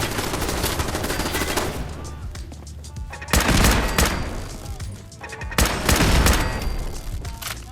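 Rapid bursts of PPSH submachine gun fire from a Fallout 4 mod, loud close automatic volleys in several separate strings with short pauses between them.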